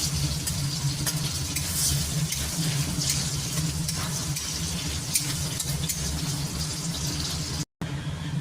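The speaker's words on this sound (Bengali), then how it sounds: "আলুগুলো আমি একটু লাল করে ভেজে নেবো আলুগুলোকে" Potatoes fry until browned in a pan of oil, giving a loud, steady sizzle close up with occasional stirring scrapes, cut by a brief silent gap near the end.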